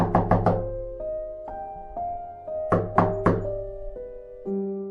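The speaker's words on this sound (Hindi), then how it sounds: "विवेक ने रिया के कमरे का दरवाजा खटखटाया" Knocking on a bedroom door, rendered as a horror sound effect: two loud clusters of three or four sharp raps with a pause between them, each set over a low, sustained tonal drone.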